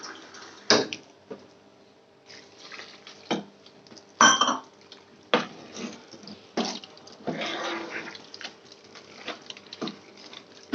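A ladle scrapes and knocks against a pot while stirring thick ragi mudde with rice and water, irregular bumps and sticky slaps at close range, some louder strokes standing out over a quiet background.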